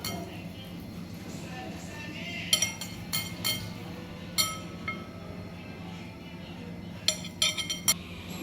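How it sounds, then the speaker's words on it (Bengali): Boiled eggs are chopped in a bowl, with sharp metallic clinks of a utensil against the bowl coming in short clusters of quick taps over a faint background hum, close and moderately quiet. "এবার আমরা এর মধ্যে ডিমটাকে কুচিয়ে নেবো"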